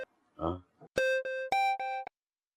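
A phone rings with an incoming call, a few loud electronic tonal bursts in quick succession, preceded by a brief murmur and then cut off into silence.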